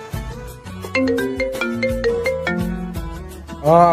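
A phone's ringtone plays a bright, stepping electronic melody for a few seconds, close and clear, and a short voice-like sound comes in at the end.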